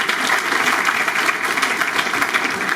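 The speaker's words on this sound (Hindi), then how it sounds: "इनके लिए जोरदार तालियां।" An audience at a coaching institute's test-series results event in Kanpur claps loudly and steadily for a ranked student, many hands applauding without pause.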